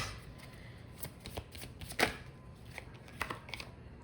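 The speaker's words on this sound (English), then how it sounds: "So let me just get more cards." Tarot cards shuffled by hand in quick, soft riffling bursts with one sharper snap midway, quiet and close with no talking.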